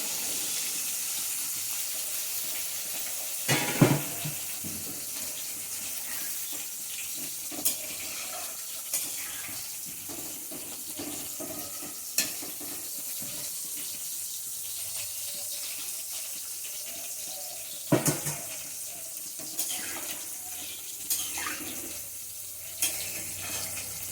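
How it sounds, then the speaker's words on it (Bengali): Water goes into a cooking pan for a fish curry with a faint, steady running-water hiss, punctuated by scattered quiet clinks and knocks of kitchenware. "আমি যতটুকু জল লাগবে সেই পরিমাণ মতো জল দিয়ে দেবো"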